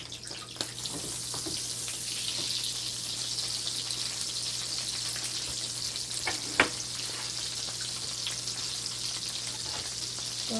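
Butter sizzles steadily in a pan, a quiet continuous frying hiss with a few faint clinks and stirring knocks, no talk.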